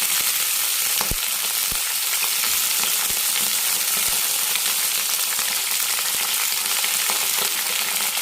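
Eggplant pieces frying in a pan with green chillies, a steady dense sizzle with occasional sharp pops and spatters throughout, no voices.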